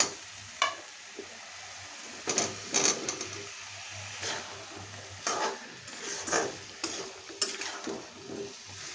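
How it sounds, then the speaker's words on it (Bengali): Potatoes tipped into a pan of frying dried puti fish and flat bean curry, with intermittent scraping and stirring bursts over a low, steady sizzle; no one talks. "এখন দিয়ে দেবো আমি আলু"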